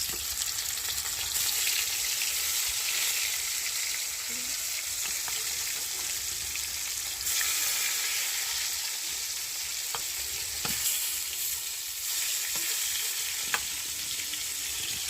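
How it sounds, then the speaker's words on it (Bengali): Pieces of wheel-cut fish fry one by one in hot oil for a spicy Bengali fish curry, giving a steady, close crackling sizzle with occasional sharper pops and no talking. "তো চলো একে একে আমি ঢেলে তেলের মধ্যে দিয়ে দেবো।"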